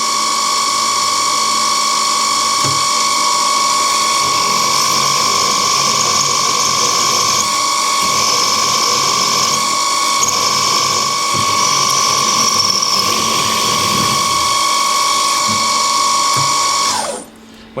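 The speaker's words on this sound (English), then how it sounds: "I'm going to drill the 8mm hole for the handle" Drilling an 8mm hole in a metal vice handle produces a loud, unbroken mechanical whine with a steady tone and faint grinding, winding down sharply at the very end, no talk.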